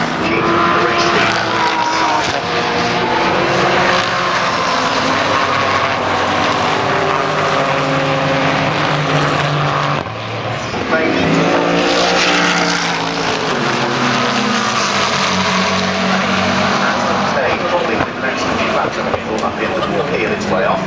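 GT race cars roar around the Brands Hatch circuit, loud engines rising and falling in pitch as a pack passes close by, with race commentary running over them.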